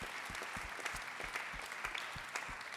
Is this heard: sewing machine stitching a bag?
no